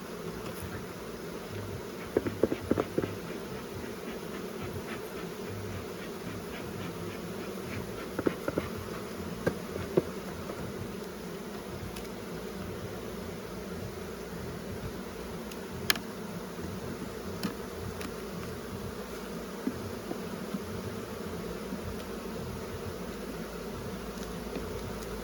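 Honey bees in an open hive in Ontario keep up a steady, low, continuous drone, with occasional faint clicks and taps over the hum.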